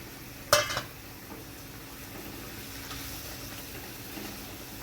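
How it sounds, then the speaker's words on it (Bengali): Fried katla fish goes into a boiling poppy-seed gravy in a pan: a brief clatter up front, then a steady hiss and bubbling that stays close and even, with no voices. "গ্রেভিটা ফুটে গেছে এবার আমি ভেজে রাখা মাছগুলো দিয়ে দিচ্ছি"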